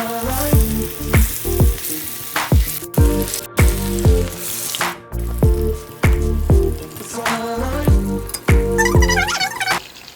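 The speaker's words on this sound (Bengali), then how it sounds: "দেন এবার আমি একে একে চিকেনগুলোকে ফ্রাই করে নেব।" Chicken pakoras fry in hot oil with a loud, steady sizzle that swells in repeated waves, with wet bubbling and occasional stirring, close up and without talk.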